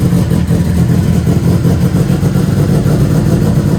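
A Subaru WRX engine runs steadily at close range with a dense, continuous low rumble and no noticeable change in pace.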